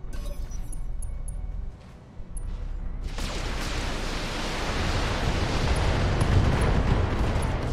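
Defensive turrets open fire on a Javelin mech in Battletech, a sudden wall of heavy, rumbling weapon blasts that starts partway through and keeps pounding loudly without a break until the end.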